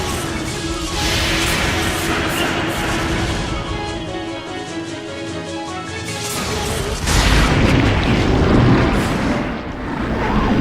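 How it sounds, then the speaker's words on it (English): A massive explosion rumbles through a Resident Evil Code: Veronica X cutscene, a dense, sustained roar of crashing debris that swells again in a louder second burst, with no voices. "watching the massive explosion that comes along with it in the cutscene"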